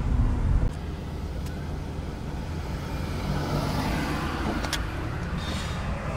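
Road traffic rumbles steadily on a street in Cardiff, a continuous low wash of passing cars and heavier vehicles with a few faint higher clinks, fairly close, no voices.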